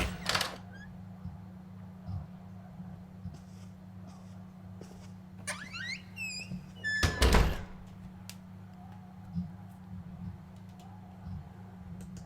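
A heavy door shuts in the horror game NightCry, a single loud thud near the middle, set against a low droning hum with faint scattered knocks and chirps.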